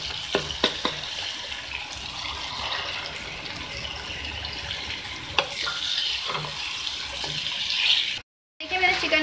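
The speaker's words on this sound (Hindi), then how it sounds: "और अब मैं इसमें डालूंगी चिकन।" Chicken added to a frying masala of tomato, onion and garlic gives a steady, close sizzle with bursts of stirring and scraping. Near the end the sound cuts out briefly.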